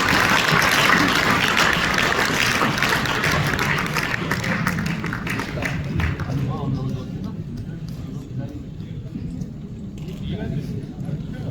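Audience applause at a Sir Syed Day alumni fundraising gathering for Aligarh Muslim University, welcoming poet Shakeel Azmi: dense, steady clapping from a large crowd for several seconds, thinning and fading toward the end.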